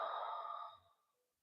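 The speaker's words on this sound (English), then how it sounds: "Exhale out the mouth." A single soft exhale through the mouth during a yoga breathing exercise, airy and close, fading out after about a second.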